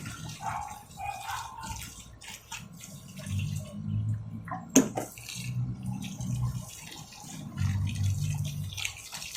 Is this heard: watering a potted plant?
yes